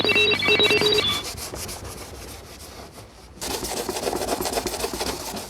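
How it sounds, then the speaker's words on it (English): Scotch-Brite pad scuffs lacquer on a car panel with a close, harsh, rhythmic rasping, starting under a brief ringtone and growing louder and denser after a short pause. "see the way the lacquer's just popping off. That's not a nice sound."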